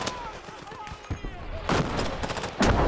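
Gunfire rattles through a battle in the video game Call to Arms: Gates of Hell, with bursts of rapid shots and two louder volleys near the end, mixed with faint background talk.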